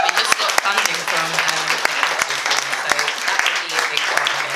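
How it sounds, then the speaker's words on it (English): An audience claps continuously for a speaker at an International Women's Day event, a dense, even round of applause with sharp individual claps, while a voice speaks over it. "Give her another round of applause."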